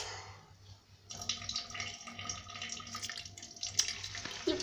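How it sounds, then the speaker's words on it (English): Water running and gurgling down a sink drain, an uneven splashing flow with soft trickles and small drips, close and fairly quiet, with no talking. "The water goes down the drain."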